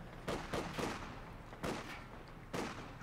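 Gunfire from riflemen in the video game Company of Heroes 2: several sharp rifle shots crack in uneven bursts, some paired, some single, at moderate distance.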